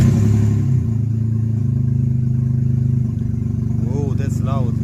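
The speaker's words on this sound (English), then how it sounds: "it's going to be loud because I didn't tighten completely the exhaust" A Volkswagen Polo with a swapped engine and a loosely fitted exhaust runs loud, a heavy low rumble and throb that dips briefly near the start and continues steadily, with brief chirpy voice-like sounds near the end.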